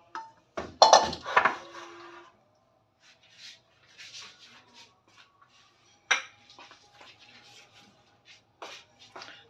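Mutton karahi being dished out of a pan onto a plate: a burst of metal scraping and clinking up front, then scattered soft scrapes, taps and clinks of a spoon against metal, fairly quiet.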